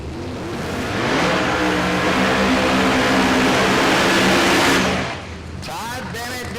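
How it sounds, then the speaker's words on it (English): A no-prep drag race car roars through a big burnout at Ozark Raceway Park, its engine screaming loud and sustained before cutting off, with an announcer talking over it. "Todd Bennett doing the big burnout"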